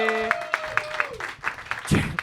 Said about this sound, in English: Start clapping for Charity